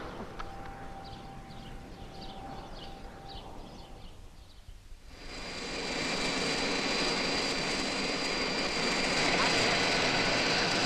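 Jet airplane engine droning steadily, swelling into a louder broadband roar about halfway through and holding there, with faint voices under it early on.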